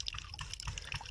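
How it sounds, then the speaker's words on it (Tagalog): Farm irrigation water for plants drips and trickles in quick, irregular splashes, close and fairly quiet. "Pinatutubigan nila yung mga halaman."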